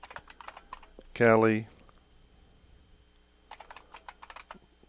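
Clicky keystrokes on a computer keyboard as a virtual machine name is typed into VirtualBox, a quick burst at the start and another near the end, with someone briefly speaking in between.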